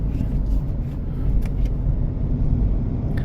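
A 2025 Mahindra XUV700 diesel base model SUV cruises along, heard from inside the cabin as a steady, even low rumble of engine and road noise with no distinct gear change standing out.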